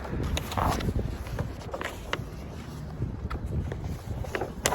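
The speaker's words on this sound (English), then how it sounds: "Ooh, it's windy." Gusty wind buffets the microphone with low rumbling and uneven thumps, close and fairly loud, with no talking.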